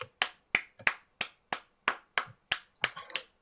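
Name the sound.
hand clapping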